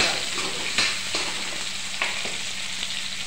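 Tomatoes frying in a pan for mint chutney give a steady close sizzle, broken by a few soft scraping stirs, with no talking.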